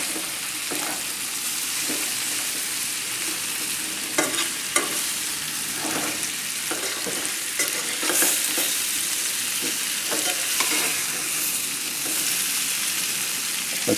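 Butternut squash with bacon frying over a high flame, a steady loud sizzle with repeated stirring scrapes and clinks across the whole stretch, no speech.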